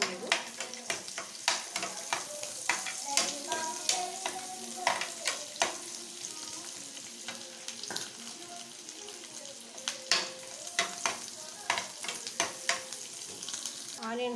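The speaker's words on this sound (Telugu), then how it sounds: "ఆనియన్స్ వేగినాయి కదా" Chopped onions frying in hot oil for egg semiya, with a steady sizzle and repeated scraping strokes of a spoon stirring the pan, close and continuous with no talking.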